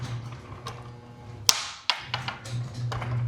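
A stick is knocked over and clatters to the floor in a garage, where the door then reverses; sharp taps and a thud land mid-clip over a low motor hum, followed by a few lighter knocks.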